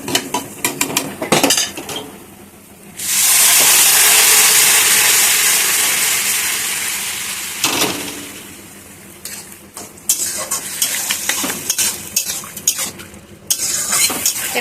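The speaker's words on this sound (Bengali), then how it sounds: "পেঁপেগুলো একটু গলিয়ে দিলাম" Boiled papaya for shukto is mashed and stirred in a pan: repeated close scraping and clinking of a utensil, with a long loud wash of sizzling, rushing noise in the middle before the scraping resumes.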